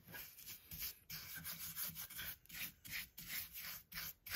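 Rhythmic rubbing strokes while a car throttle body butterfly part is hand polished, soft scratchy passes repeating about twice a second, close but faint, with no talk.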